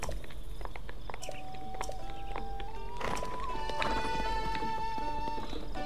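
Horse hooves clip-clop as Epona trots in Zelda: Breath of the Wild, a steady rhythmic patter layered over in-game music tones and ambience.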